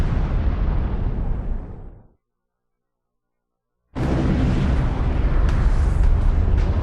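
The Tunguska explosion in Siberia: a huge blast roars with a deep, rolling rumble, cuts abruptly to silence, then another thunderous blast surges back loud and sustained.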